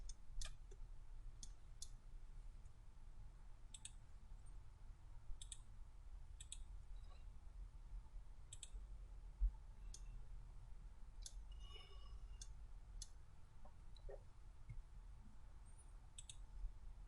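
A computer mouse clicks at an irregular pace while drafting in a CAD program, giving sharp, quiet, close taps over a low steady hum with no talk.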